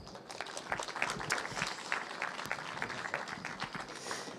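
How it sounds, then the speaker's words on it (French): Audience applauding for a scientist explorer at a public talk, a quiet, fairly distant patter of clapping hands that continues evenly throughout without speech. "Merci de l'applaudir bien fort."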